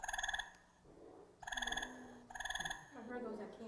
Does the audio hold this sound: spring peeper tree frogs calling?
yes